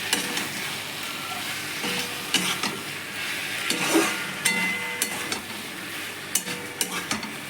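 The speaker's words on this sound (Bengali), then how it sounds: "এই অবস্থায় খানিকটা কষানোর পর আমি চিংড়ি মাছগুলো দিয়ে দেবো" Masala for prawns sautéing in a pan, a continuous close sizzle broken by irregular scraping clicks of a spoon stirring against the metal, with no one speaking.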